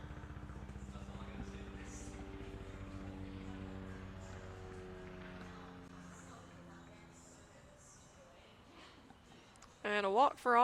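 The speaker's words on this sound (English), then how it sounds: "Looks like a helicopter's flying over." A helicopter passes over a college baseball game, a low rotor drone with steady harmonic hum fading across several seconds, under a commentator's voice before a sharper burst near the end.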